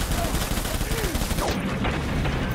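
Rapid gunfire in Death Stranding during a fight with Unger, dense crackling shots running continuously throughout, with a voice speaking over the firing.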